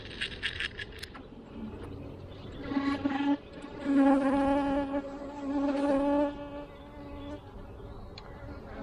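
Honeybees buzz steadily during a hive inspection of a quadruple deep nuc preparing to swarm, a dense droning hum that swells louder in the middle and fades back, with brief clicks near the start.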